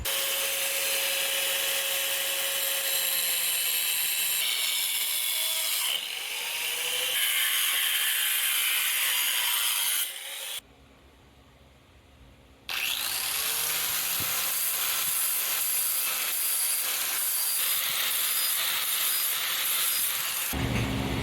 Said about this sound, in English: So back to the cutoff wheel where we will trim some more.